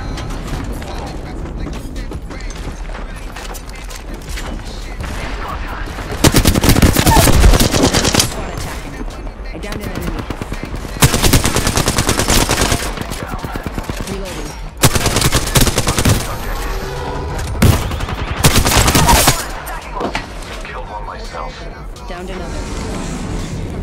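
Rapid automatic gunfire from the battle-royale game Apex Legends, loud sustained bursts of several seconds each, repeating over a constant background of game noise and voice.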